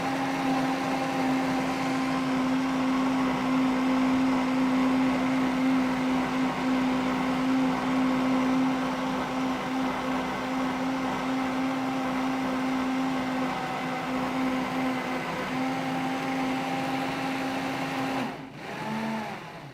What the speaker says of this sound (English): any high speed blender will do this, especially because the cashews are soaked